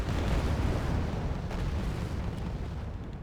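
Rapid autocannon fire in the war strategy game Wargame Red Dragon, a dense, continuous rumble of overlapping shots and booms across an open battlefield, loud and steady throughout without letup.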